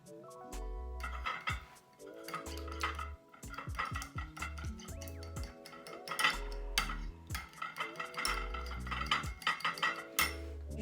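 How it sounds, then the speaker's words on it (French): A spoon or whisk clinks and scrapes against a bowl while mustard and water are mixed, in quick irregular bursts of close, bright clatter with short pauses. "Je vais rajouter un peu d'eau et puis mélanger le tout."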